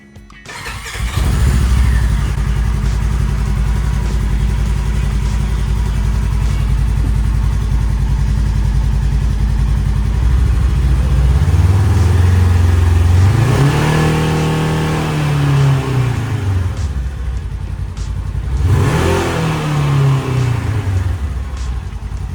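A Polaris RZR engine cranks and catches after an oil change, then idles steadily with a couple of rising revs toward the end.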